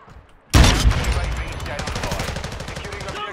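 Loud burst of first-person shooter gunfire erupts after a brief quiet moment, then rapid repeated shots continue under shouting players, close and dense throughout.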